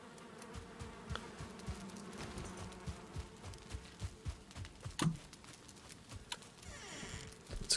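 Bees buzzing in the video game Valheim, a soft hum mixed with rhythmic footsteps and scattered clicks.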